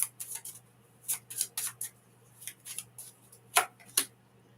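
Oracle cards being shuffled by hand, a quiet series of soft riffling and snapping bursts in irregular clusters, close by, with no voices.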